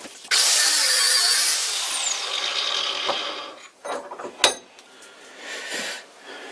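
A screw spun on a wood lathe has its head cut off, giving a loud, sustained high grinding screech that thins out over a few seconds, then a handful of sharp metallic clanks and scrapes as the work winds down.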